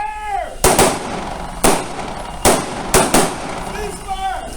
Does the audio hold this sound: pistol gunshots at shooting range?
yes